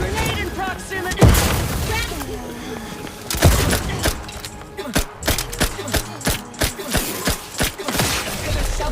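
A grenade explosion and gunfire in The Outer Worlds 2 video game: two heavy booms with falling whooshes, followed by a steady, rhythmic stream of gunshots, with a robotic-sounding voice speaking in the mix.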